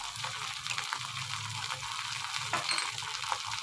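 Peas manchurian sizzling in a pan with soy sauce and red chilli sauce, a steady loud frying hiss with occasional stirring scrapes, no talk.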